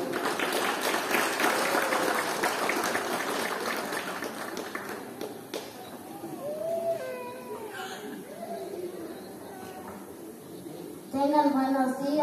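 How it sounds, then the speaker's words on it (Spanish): Audience applause at a school closing ceremony, a steady broad patter for about five seconds that thins out, followed by a voice and crying or whimpering sounds near the end. "Vamos a recibirlo con fuertes y calurosos aplausos."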